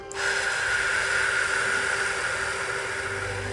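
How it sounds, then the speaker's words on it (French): A single slow, deep breath, a long steady airy rush close to the microphone, breathy and even throughout. "Inspire, gonfle ton ventre et expire doucement."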